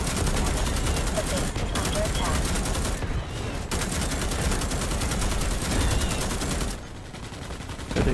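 Rapid, continuous automatic gunfire rattles from the Starship Troopers video game, with short pauses between bursts and a player speaking briefly.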